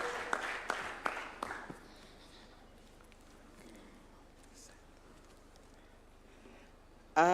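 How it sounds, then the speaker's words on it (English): Applause at a swearing-in ceremony for COMESA judges at State House, Nairobi, heard as a short burst of clapping at the start that fades into quiet room tone, with a sharp sound right at the end. "A round of applause, please, as she approaches the signing in arena"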